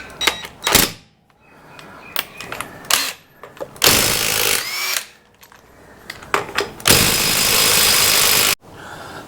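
A power tool removes a wheel from a Ford Falcon FG during a brake service: loud, close whirring bursts separated by short pauses, with two long sustained runs near the end.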